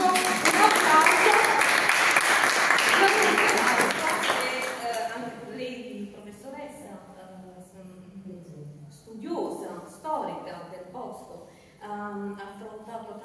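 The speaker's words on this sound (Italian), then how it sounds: "Un applauso." Applause from the audience at a book presentation in Rodi Garganico fills the first few seconds with a dense, loud wash of clapping, then fades out and gives way to someone speaking.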